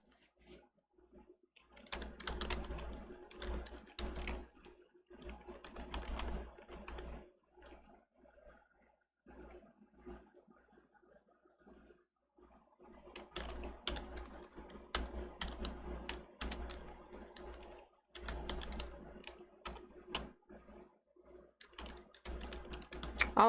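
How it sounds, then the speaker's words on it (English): Computer keyboard typing in bursts of rapid key clicks, separated by short pauses, close and fairly quiet with no talk. "All I'm doing is just typing some stuff out"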